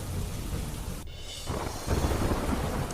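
Heavy rain pours steadily in Kutch, a dense hiss with a low rumble beneath that briefly dips and then grows louder.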